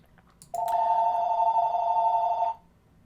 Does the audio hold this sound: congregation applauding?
no